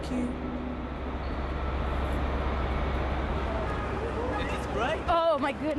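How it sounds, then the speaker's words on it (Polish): A train pulls into a station in a video game as a steady, loud low rumble, and a voice speaks briefly near the end. "Wasz pociąg zgodnie z rozkładem wkrótce przyjedzie."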